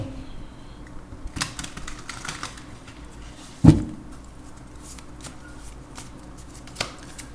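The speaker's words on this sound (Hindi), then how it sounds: "लव ऑरिकल से भी कार्ड ले लेते हैं." An oracle card deck handled and drawn, with soft papery shuffling and card slides, scattered light taps and one sharper knock near the middle, close and quiet with no talking.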